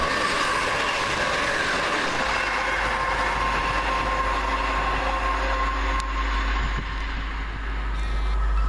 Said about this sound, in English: Next up, 1 Whiskey 19 for London Midland from London Euston to Birmingham New Street.